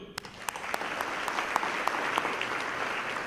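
Dense, steady applause from an audience at the 2014 Supply Chain Asia awards evening, many hands clapping together at an even level throughout with a few sharper claps standing out.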